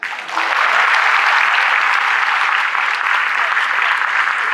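An audience at an annual event bursts into sustained applause, a dense, even roar of clapping that starts abruptly and holds steady without talk over it.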